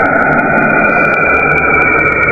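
Eerie space-style sound presented as the planet Saturn: a loud, steady droning hum with a sustained high tone and faint crackling ticks above it, unchanging for a couple of seconds.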